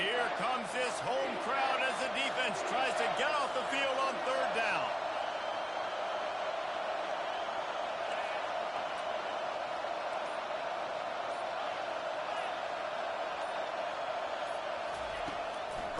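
A home crowd at a North Carolina Tar Heels college football game against South Carolina roars loudly as the defense faces third down. The noise is a sustained, dense stadium roar, with a commentator talking over it.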